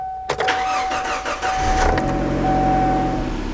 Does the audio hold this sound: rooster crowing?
no